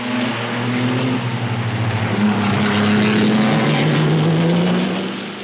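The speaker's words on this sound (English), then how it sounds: "Hawthorne's Ferrari passed by the Maserati of Fangio" Ferrari and Maserati Grand Prix racing cars roar past one after another, a loud continuous engine drone with shifting pitch as the cars go by.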